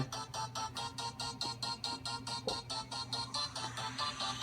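A song plays at mid-volume through a first-generation iPhone sitting in its dock, a tinny, washed-out sound with a steady rhythmic pulse throughout.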